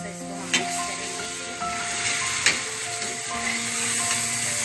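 Finely chopped tomatoes and green chillies are stirred into a hot pan, making a continuous close sizzle with scraping stir sounds and a couple of sharp knocks.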